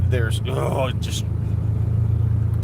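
A car rumbles steadily nearby with a deep, continuous engine drone, while a person speaks briefly over it at the start.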